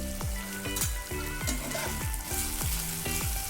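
Paneer cubes being stirred into a hot pan of chilli paneer, a steady oil sizzle with repeated clinks of a spoon against the pan in an even rhythm, no talking.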